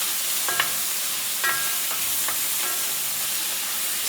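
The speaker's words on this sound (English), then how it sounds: "Now we're going to really let these saute." Beef tips with peppers, onions and mushrooms sautéing in butter, a loud dense sizzle throughout with several light metallic scrapes of stirring spaced through it, close up, no talking.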